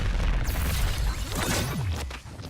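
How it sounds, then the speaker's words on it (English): Video game explosions from a Joker battle, a loud dense rumbling boom with bursts and sweeping whooshes layered over each other, close and continuous. "the explosions are just blocking the entire screen"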